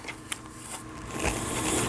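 A Toyota 4071 household sewing machine under repair runs briefly, a soft mechanical whir with light ticking that builds toward a faster stitching buzz over a couple of seconds.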